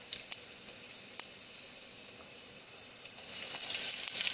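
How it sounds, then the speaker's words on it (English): Mustard and cumin seeds sizzle in hot oil with a few sharp pops early on, then a steady hiss that swells louder near the end; no voices. "my oil is nice and hot, I have added mustard seeds, 1/2 teaspoon cumin seeds"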